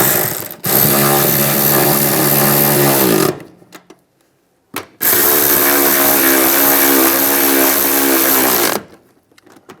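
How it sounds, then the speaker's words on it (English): Power tool tightening the seat nuts in a 2007-2013 Chevy Silverado, heard as two loud, sustained whirring runs about three to four seconds each, separated by a short silence. "Now we'll tighten these down."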